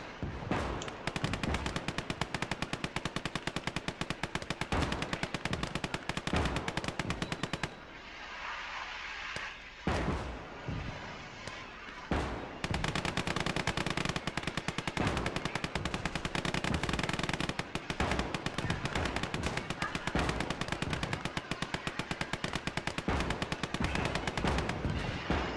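Dense artillery and gunfire from a Call to Arms: Gates of Hell battle with Japan, loud and nearly continuous. Rapid bursts and booms are packed together, with a brief quieter lull partway through.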